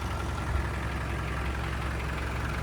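A 1998 Land Rover Defender 90 Highland Edition with a 300TDI diesel engine idles steadily inside an enclosed building, giving a continuous low rumble with an even knock and no talk.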